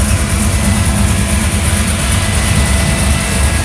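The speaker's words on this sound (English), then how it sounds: "I'm using the exhaust of another car to drown it out" A car engine idles loud and steady right beside a black 1967 Oldsmobile 442 with orange and yellow flames, its low exhaust rumble continuous and unbroken with no voices over it.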